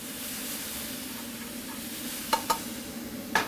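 Peaches sizzle steadily on a barbecue grill, a constant frying hiss with a few sharp clinks near the end, close and moderately loud with no talk.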